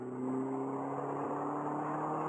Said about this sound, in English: the little growl that this thing has, and the little turbo blow off is so cool.